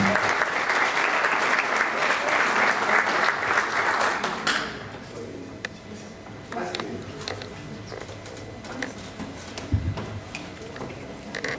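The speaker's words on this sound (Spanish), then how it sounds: "damos la bienvenida con un aplauso" A conference audience claps in sustained, dense applause for several seconds to welcome a speaker, then it fades into scattered claps and quiet room sounds.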